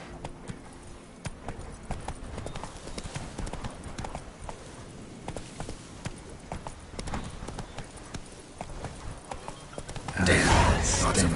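Roach the horse's hooves clip-clop in a steady walking rhythm across ground in The Witcher 3 game, with speech over it and a burst of louder game noise near the end.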